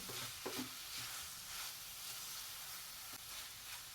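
Jaggery and grated coconut being stirred together in a pan over a low gas flame for Maharashtrian fried modak filling, a soft steady sizzle with a few scraping stirs near the start and one near the end.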